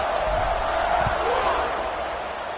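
A stadium crowd in a college football video game, Virginia Tech against Virginia, roars steadily as the teams line up to kick off. The broad, loud noise holds without a break for the whole stretch.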